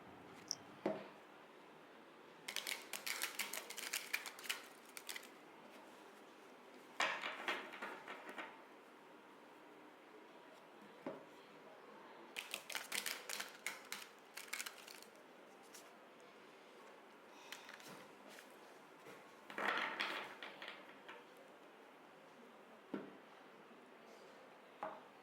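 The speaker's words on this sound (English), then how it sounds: "I'm gonna shuffle the cards until I feel the deck is ready" Tarot cards shuffled in repeated bursts of papery riffling and soft slaps, several clusters spread over the stretch with quiet pauses between, close and fairly faint, no voices.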